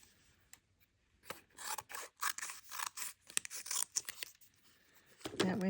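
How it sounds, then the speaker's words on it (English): Scissors snipping through paper with a run of quick, uneven cuts, each a crisp near rasp or crunch, separated by short gaps, with slight rustling of the sheet between strokes. "going to cut some of this paper away."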